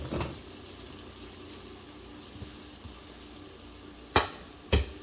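Chopped vegetables for pav bhaji, green peas and cauliflower, stirred in a hot pan with a soft continuous sizzle, then two sharp, close clanks of a spoon against the pan near the end.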